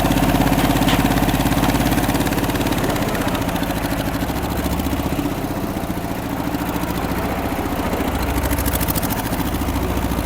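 A TAFE Orchard 30 DI tractor with a Simpson diesel engine runs steadily at close range, a loud rhythmic chugging idle with slight swells in revs and no talk over it.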